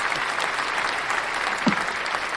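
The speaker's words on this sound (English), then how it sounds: "Round of applause for you." A round of applause from an audience, a dense continuous wash of many hands clapping at steady volume throughout, no one speaking.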